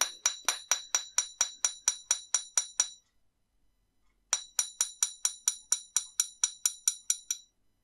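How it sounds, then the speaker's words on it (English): A small riveting hammer taps the ends of earring wire flat, giving two runs of about a dozen bright, evenly spaced metallic clinks, separated by a short pause, close and crisp. "we just want to hammer the very ends of the wire to splay them out a little bit."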